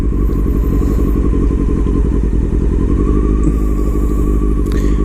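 Motorcycle engine idling very low with a broken idler screw, a loud, close, lumpy putter with uneven clattering firing pulses, continuous and without speech.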